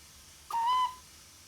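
A steam locomotive's short whistle in a train simulator game, one clear hooting blast of about half a second, moderately loud over a faint background hum.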